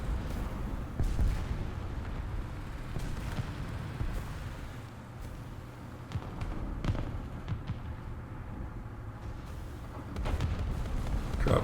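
Distant artillery strikes in War Thunder rumble faintly on a battlefield, with scattered thumps and sharper blasts breaking through a low, steady background over several seconds.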